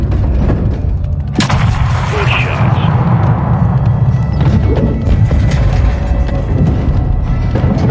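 Modern Warfare 2 battle against mortar crews: loud, continuous combat din with heavy booming impacts and crashing blasts layered over a rumbling roar.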